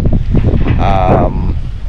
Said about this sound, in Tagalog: Medyo kusog gyud ang hangin karong adlaw